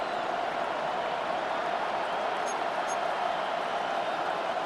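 A stadium crowd roars steadily in Madden NFL 26, a broad, even wash of cheering that holds at constant loudness from start to finish with no speech over it.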